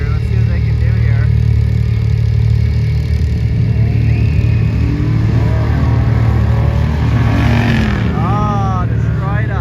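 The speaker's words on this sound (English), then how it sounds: "let's get some Jeeps racing, that would be cool to watch" A Jeep Rubicon and a Jeep Gladiator race side by side with loud, sustained engine drone and revving. Excited voices and crowd noise sit over the motors.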